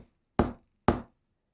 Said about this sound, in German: klopfte an die Tür des ersten Hauses, zu dem er kam